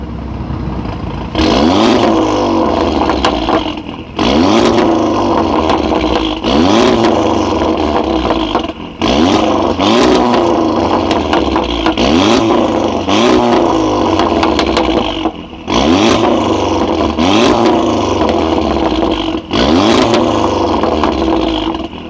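An engine that sounds like an Audi RS3 revs hard again and again, each sharp burst climbing and then dropping, with brief gaps between them, loud and close with no talk.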